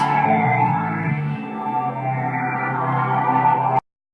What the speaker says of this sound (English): threw in some of that bass.